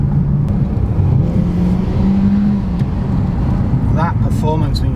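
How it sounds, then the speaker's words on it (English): Peugeot 508 PSE engine pulling hard after a kick-down gear change, a steady loud in-cabin drone that rises in pitch, with people talking over it. "That performance when you drop a gear, so kick down, it's instant as well"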